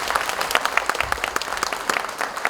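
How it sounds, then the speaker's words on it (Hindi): A gathering of Uttarakhand ex-servicemen claps steadily. The dense applause stays even throughout, with many hands and no voices rising above it. "जोर से ताली मारिए"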